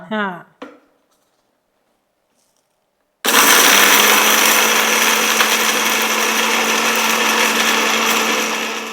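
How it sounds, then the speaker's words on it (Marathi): A kitchen mixer grinds garam masala spices into powder, starting abruptly after a short voice and a few seconds of silence, then running as a loud, steady, close whirring roar to the end. "हे असे छोट्या प्रमाणात असले ना तर घरच्या घरी असं मिक्सरला करायला सोपे"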